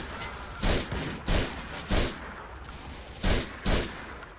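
Sniper rifle fire in the video game Grand Theft Auto IV: five loud, sharp shots spaced unevenly across a few seconds, each with a brief booming tail, and no talking.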